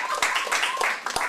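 A crowd claps in applause for a comic poetry performance, a dense, broadband patter with a few louder surges across a short stretch.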